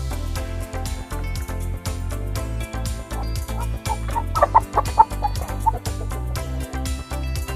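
Tanaka-breed chickens, a hen among them, cluck in repeated short bursts, loudest in the middle stretch, over steady background music with no talking.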